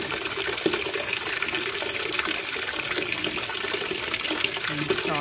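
Tap water pours steadily into a bucket for a floor-cleaning mop, a loud, close, continuous splashing fill with a faint voice now and then beneath it.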